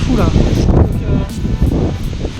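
Strong wind blows outdoors at a drone racing event in the Netherlands, buffeting the microphone with loud, gusty rumbling while someone speaks over it.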